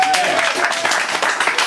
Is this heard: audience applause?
yes